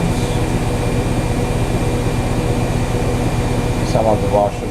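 A washing machine spins at 1200 RPM with a loud, steady mechanical drone and a strong rhythmic low hum throughout; a brief higher chirp rises near the end.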